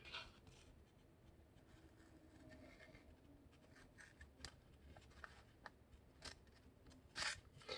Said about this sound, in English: I will hold the papers right here, and then I will cut it.